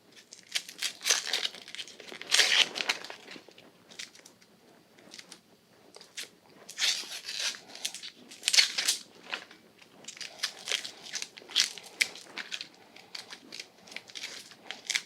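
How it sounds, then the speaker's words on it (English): Dry papery onion skin being peeled off a whole onion by hand, close and crisp, with bursts of crinkling and tearing that come and go irregularly with no talk. "it makes it really quite simple to peel the whole onion"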